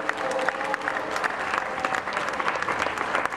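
Audience applause for a band at a May Day concert, dense steady clapping filling the whole stretch at moderate loudness, with a faint voice briefly over it.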